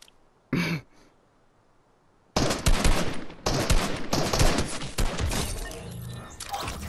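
Video game gunfire through wooden walls, a short burst near the start, then a long loud stretch of dense rapid shots and impacts with cracking, shattering debris.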